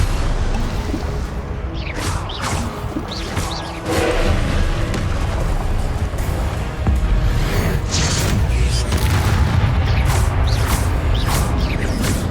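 Confringo blasting spells from Hogwarts Legacy during a trial fight, a dense stretch of booming impacts, whooshes and crashing debris that runs continuously and loud, with a noticeably heavier burst around four seconds in.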